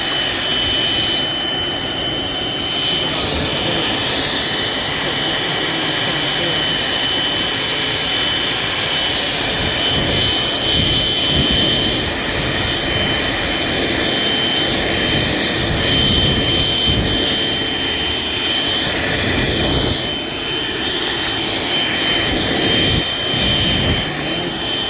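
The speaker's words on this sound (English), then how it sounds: "This is a strong little vacuum." Steady, loud whine of a small vacuum running continuously, with a constant high-pitched hum and rougher rumbling bursts underneath.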